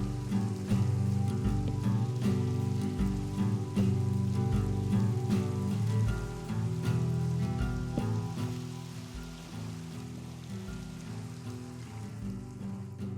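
Steady rain falls in the video game Minecraft, a dense, even patter that fills the whole stretch, loud and close, with no talking.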